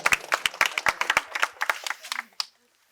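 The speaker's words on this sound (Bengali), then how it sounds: "সবাই হাততালি দিয়ে উৎসাহ দেবেন।" A short burst of clapping from several people at a medical college quiz, quick uneven claps that thin out and stop after about two and a half seconds.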